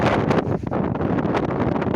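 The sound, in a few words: wind blowing outdoors on the Isle of Arran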